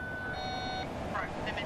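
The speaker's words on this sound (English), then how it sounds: "The alarm warns the crew that the other C-17 participating in War Day is nearby." Proximity alarm in a C-17 military transport aircraft cockpit, a steady electronic beeping tone sounding for under a second, then fading into cockpit noise with brief higher chirps and crew talk.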